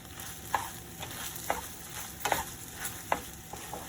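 Shredded ginger is stirred into a sizzling cooking mixture, with a spoon scraping the pan in several spaced strokes over a faint frying hiss.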